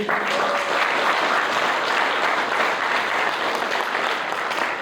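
Sustained audience applause at the opening of a CrossFit championship of the National Guard of Ukraine's Northern territorial command, a dense, loud, even wash of many hands clapping with no gaps throughout.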